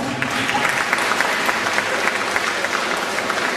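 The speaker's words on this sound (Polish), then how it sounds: "Za to brawo" Steady burst of audience applause at a Polish school anniversary ceremony honouring the school director, dense clapping from a hall crowd, loud and even throughout with no voices standing out.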